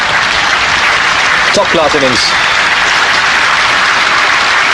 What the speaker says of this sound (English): Deserves the applause